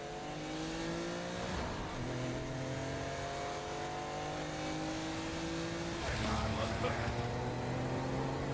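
A car driving in the Saints Row: Gat out of Hell video game, with a steady engine drone and shifting rev tones running throughout and a brief louder swell near the end.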